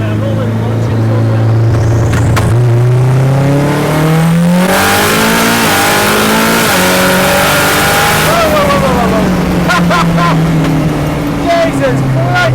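Home-made Mazda RX-7 running a Honda engine pulls hard from a rolling launch, a loud, close engine roar climbing in pitch through several gear changes, with a brief hiss and bursts of rising revs.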